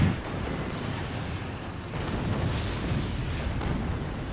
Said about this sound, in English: the Hail Mary cannon misses its shot.